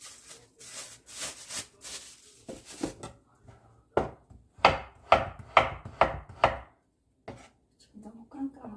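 A knife chops freshly sent home-grown garlic on a cutting board for a simple pollock-roe tofu braise, giving a quick run of sharp, close knocks and then a steady rhythmic series of loud chops with short pauses.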